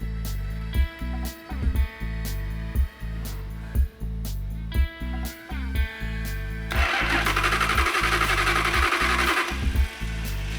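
An engine cranks repeatedly in a steady chugging rhythm without catching, then the sound shifts into a louder, rougher sustained roar that lasts to the end, all close and prominent with no speech.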